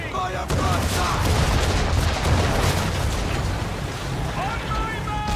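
Volley of ship cannon broadside fire in Assassin's Creed III naval combat, a loud sustained roar of overlapping blasts starting sharply and rumbling on, with voices shouting faintly over it.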